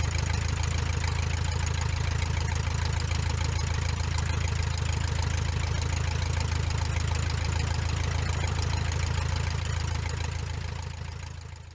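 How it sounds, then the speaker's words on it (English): Luscombe light airplane taking off from runway 33 in the southwestern United States, its engine holding a loud, steady low drone with a throbbing pulse, fading slightly at the very end, with no talking. "Luscombe 1813 kilo, taking off runway 33"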